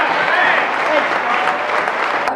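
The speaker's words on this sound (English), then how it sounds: "let's get a big round of applause for Brent real quick" Wedding guests applaud for Brent in a loud, dense burst of clapping that holds steady throughout, close and filling the room, with a few cheers mixed in.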